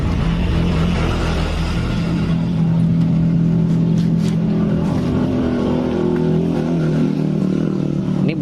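A motorcycle engine fitted with boring and a Beat digital/Eco head revs loudly and steadily through a capped exhaust, a close, continuous droning roar with rising pitch swells.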